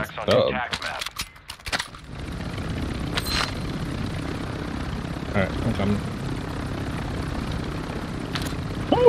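A helicopter in the video game Warzone 2.0 whirs steadily at moderate volume after a brief clatter at the start, with players talking over it.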